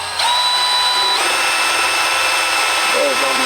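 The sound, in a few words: die grinder bit grinding out latex prop eyes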